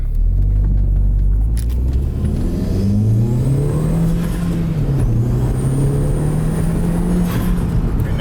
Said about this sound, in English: you can hear that turbo spool